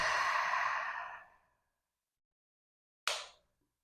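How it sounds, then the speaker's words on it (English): A long, slow breath out during a yoga flow, close and soft, fading away into silence, followed by a brief sharp inhale or exhale. "And breath in and breath out."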